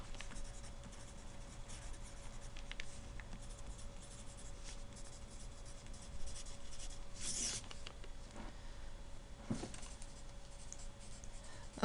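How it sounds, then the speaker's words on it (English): Marker or chalk scratching and tapping across a board during a math lecture on graphs of functions, steady low strokes over a quiet room hum with a few brief squeaks. "Let's see where I'll write it over here."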